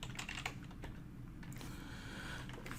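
A command is typed on a computer keyboard: soft, close key clicks tap out in a brisk irregular run, quiet overall with a faint background hiss.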